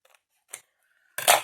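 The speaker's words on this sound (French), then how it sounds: "hop, ciseaux, parce que je vois que c'est pas coupé" Scissors snip along a paper edge during a papercraft trim: a faint click, then one short crisp cut, close and quiet with no speech.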